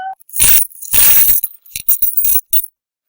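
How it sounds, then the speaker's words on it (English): A pile of coins drops onto a floor indoors in a burst of clinking and clattering bursts, loud and close, several rattling impacts over about three seconds with no talking. "A ton of my money just dropped on the floor."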